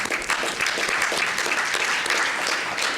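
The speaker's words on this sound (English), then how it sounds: "Let's give them a big round of applause." Steady, fairly loud applause from the audience at a city council meeting, many hands clapping together in a continuous dense patter for several seconds.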